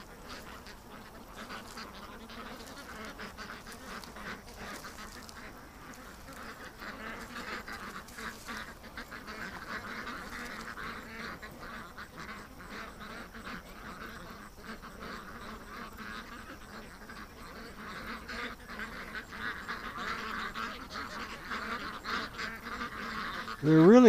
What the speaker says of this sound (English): Something's stopping the ducks from going up the creek.